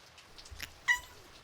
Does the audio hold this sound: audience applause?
no